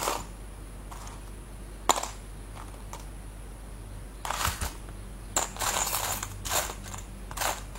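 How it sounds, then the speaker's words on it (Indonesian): Small metal lock mechanism being taken apart by hand, giving scattered close clicks, ratcheting ticks and light metallic taps, with a denser burst of clattering near the end and no talking. "Di sini kita perlu bongkar kunci dulu ya."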